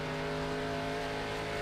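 A Winston Cup series race car accelerates hard back up to speed after a spin, its engine a loud, sustained, steady roar close by with no talking.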